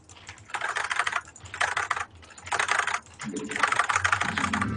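Rapid typing on a computer keyboard during a live game stream, coming in four dense bursts with short pauses between them, close and fairly loud, with a low hum under the later part.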